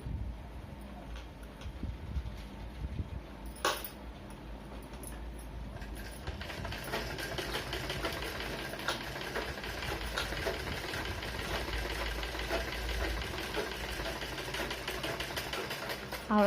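A sewing machine stitches a blouse lining, its motor a quiet, steady whirring rattle that runs continuously, fairly faint and close.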